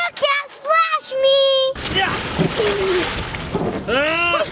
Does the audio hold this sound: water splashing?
yes